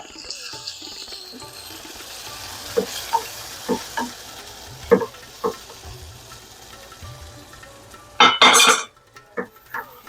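Lentils poured into a hot pan for a dal and beetroot curry, with scattered clinks and scrapes of stirring over a low sizzle, then a loud burst of hissing and splashing near the end, followed by a few more stirring knocks.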